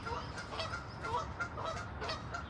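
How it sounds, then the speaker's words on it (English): Several geese honk and squawk continuously at moderate distance, overlapping nasal calls forming a busy, restless chorus with no voices. "What are you guys squawking about?"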